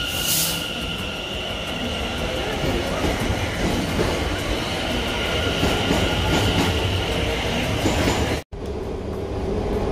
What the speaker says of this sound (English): This is the train that we're going to take into central London.